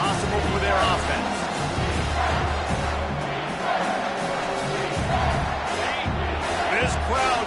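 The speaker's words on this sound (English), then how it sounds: "This crowd knows when to bring it." A stadium crowd at a football game roars loudly and continuously, with cheers and shouts swelling through it while a commentator talks over the noise.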